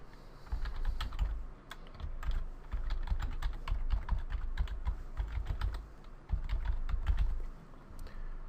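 An email address is typed on a computer keyboard, close and clear, in quick bursts of clicking keystrokes with short pauses and no talk.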